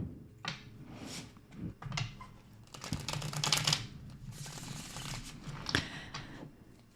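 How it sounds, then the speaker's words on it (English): A deck of tarot cards is shuffled in soft, quick riffles and flicks, close up and quiet, in bursts of papery rustling and slapping over about seven seconds with no talk. "I'm going to give this one more shuffle."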